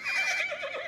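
A horse neighs once in a short, quavering whinny that wavers and trails off, close and fairly loud, heard alone.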